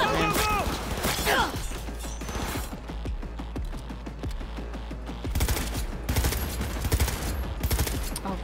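Rapid automatic gunfire from a hard-recoiling weapon during a heist shootout in Cyberpunk 2077, loud bursts of shots with mechanical clatter and crashes, continuing in dense volleys.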